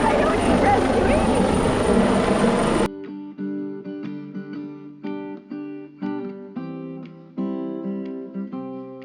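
A loud, dense helicopter rotor roar fills the first few seconds, then cuts off abruptly and gives way to quieter, tonal, pulsing sounds.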